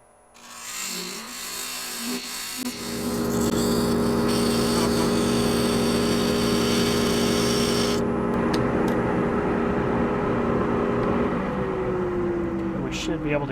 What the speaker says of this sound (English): Okay, we'll part this off 800 RPM just like we planned.